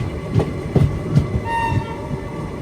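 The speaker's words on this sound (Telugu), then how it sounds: "హాంకింగ్ మన ట్రైన్దే" A train horn sounds from the Sai Nagar Shirdi to Tirupati Express, a South Central Railway train, over the rumble and clatter of the moving train, with rhythmic wheel thumps running through the background.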